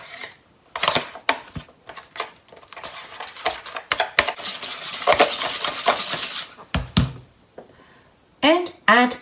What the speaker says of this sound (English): Next, mix softened butter